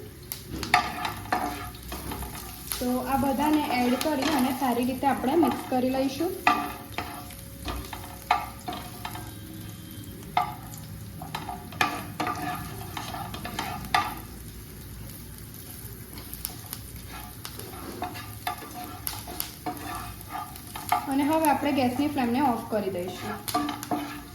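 Steady sizzling of curry leaves and tempering frying in a pan for sabudana khichdi, with scraping stirring strokes throughout, and a voice talking over it at the start and end.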